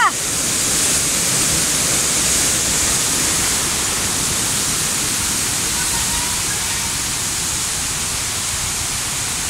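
A strong, deep waterfall in Kabankalan City, Philippines pours with a steady, loud broadband roar that stays constant throughout, close by and unbroken.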